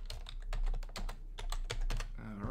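Quick, uneven keystrokes tap on a computer keyboard, close and fairly quiet, in brief bursts.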